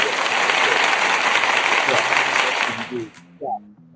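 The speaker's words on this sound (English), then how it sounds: "I'm going to applaud myself here for this great work along with Google." Dense applause from an audience fills the recording loudly, then tapers off near the end as a voice begins speaking over the fading claps.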